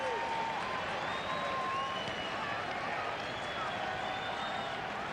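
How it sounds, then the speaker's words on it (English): Big baseball stadium crowd roaring and cheering steadily at a Cardinals game against the Tigers, a dense, sustained wash of voices with a few whistles rising above it and a broadcast voice faintly present. "This big crowd comes alive."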